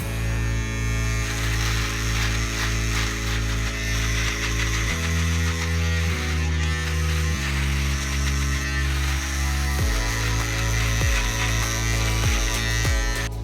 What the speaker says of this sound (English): I'm going to trim it down first with the trimmer